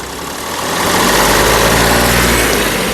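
A 2017 Mahindra TUV 300 T6+ engine runs near and steady, then swells to a louder, sustained rev that holds as a broad, even drone.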